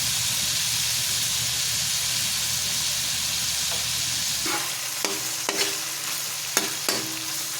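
Chicken liver adobo frying in a pan with oyster sauce added, a steady loud sizzle and hiss that breaks into several sharp stirring scrapes and clatters toward the end.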